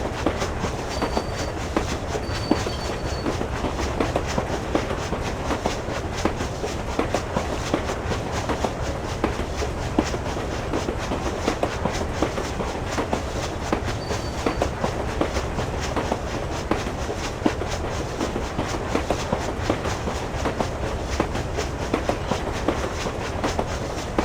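A runaway train rolling on rails in the PC game Nocturne gives a loud, continuous rumble with steady rhythmic clickety-clack wheel beats throughout. Faint high squeals come through now and then.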